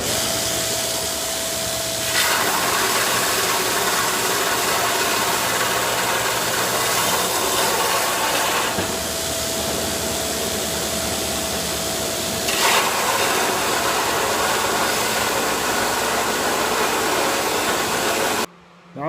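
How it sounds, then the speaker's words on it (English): Continuous loud whir of a belt grinder grinding hammer marks off a steel fuller die, with the tone shifting slightly as the steel is pressed against the belt, near and steady before stopping abruptly. "Those have to get ground out or it'll press that in every time I use it. So I'll do that over here on my belt grinder."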